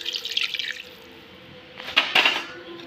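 Water pours into a pan of chicken in two short splashing bursts, close and fairly quiet, with a pause between them.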